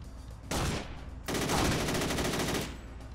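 Rapid automatic gunfire in the video game Driv3r, two sustained bursts, a short one followed by a longer rattling volley, loud and close with no talking.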